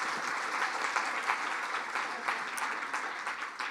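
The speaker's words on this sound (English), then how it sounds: "Let's give her a round of applause" An awards ceremony audience gives a warm round of applause for an actress standing on stage, many hands clapping densely and evenly throughout.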